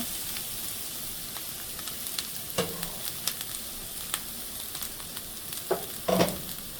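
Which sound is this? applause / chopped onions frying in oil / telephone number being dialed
chopped onions frying in oil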